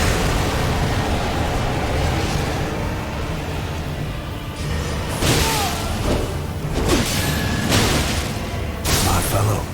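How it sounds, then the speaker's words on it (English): Explosion in the video game Elden Ring during a boss fight, heard as repeated booming, whooshing bursts over a dense, constant wash of game noise and music, fairly loud. "what was that explosion?"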